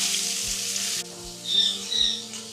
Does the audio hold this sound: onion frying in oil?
yes